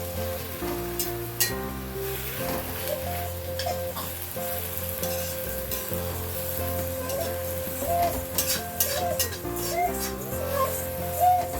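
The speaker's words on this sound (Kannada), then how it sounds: "ಸ್ವಲ್ಪ ಇನ್ನೂ ಚೆನ್ನಾಗಿ ಫ್ರೈ ಮಾಡಬೇಕು ಇದನ್ನು." Gongura chutney fries in a pan with a continuous close sizzle, with scraping and stirring noises rising and falling over it.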